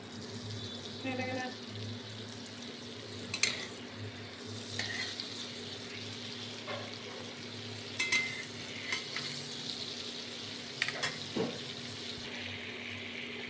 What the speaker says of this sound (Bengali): বাটার গলে গেলে ট্যাং ট্যাং ট্যাং হবে